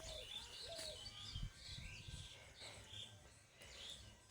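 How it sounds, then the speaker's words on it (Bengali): Morning birds chirp and call intermittently, with a few cooing notes among the higher tweets, fairly faint against quiet outdoor background noise. "বেশ সুন্দর পাখি কথা বলছে।"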